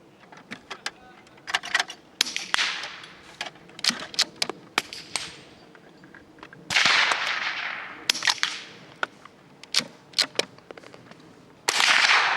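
A Browning T-Bolt rifle fitted with a Wildcat moderator fires at a range, heard as muffled sharp reports mixed with crisp mechanical clicks and short noisy bursts, scattered irregularly with quiet gaps between.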